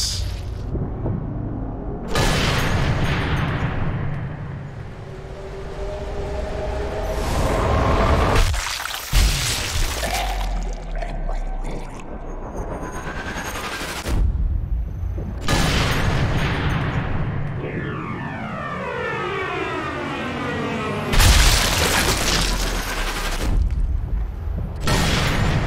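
Panzerschreck rocket blasts and gunfire in the Sniper Elite III video game at Pont du Fahs airfield: a long, loud sequence of repeated heavy booms and shots with rumbling tails, with scattered speech in between.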